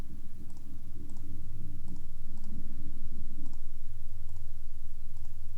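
Computer keyboard and mouse clicks tick at a steady, regular pace, one light click roughly every second over a loud, continuous low hum that fills the background.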